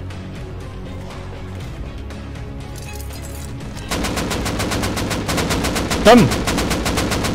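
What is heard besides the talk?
gunfire in the video game Rust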